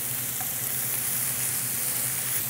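Onions with a pinch of sugar sizzle in a pan over medium heat, giving a steady, even hiss that carries on without a break for the whole stretch, with no voices.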